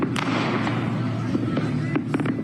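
New Year's Eve fireworks over Dallas crackle and pop outdoors at night, with sharp bangs scattered over a dense rumbling background of distant bursts.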